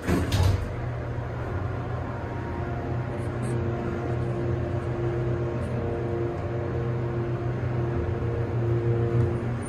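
A Montgomery hydraulic elevator in a Macy's store in Greensburg, PA, with its door closing after the close button is pressed: a steady mechanical hum and rumble holds throughout, with a few faint clicks and a slightly louder thump at the start.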